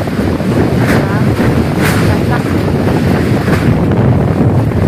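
Strong typhoon wind buffets the microphone in loud continuous gusts, with a roar like surf or open water underneath.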